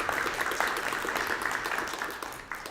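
Audience applause at an AI and education panel discussion at KAIST, a steady wash of clapping that holds evenly for a few seconds with no voices over it.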